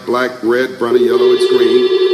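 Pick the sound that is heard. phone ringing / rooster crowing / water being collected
phone ringing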